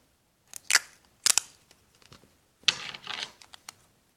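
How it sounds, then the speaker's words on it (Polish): Tape is torn off the roll to make small pillows for toy figures. Three loud ripping bursts come close to the mic with light clicks between them, and no one talks. "odcinamy kawałek taśmy"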